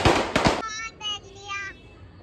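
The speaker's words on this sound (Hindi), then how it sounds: "पटाखे बजाए हैं," Firecrackers go off during a celebration, with two sharp, loud cracks in quick succession up close, followed by fainter whistling and crackling tails.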